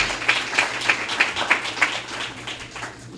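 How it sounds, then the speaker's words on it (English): An audience at a school press event gives a round of applause, with a fairly rhythmic run of claps at a steady pulse that gradually thins and fades. "Let's give our hosts and Tyrone a round of applause."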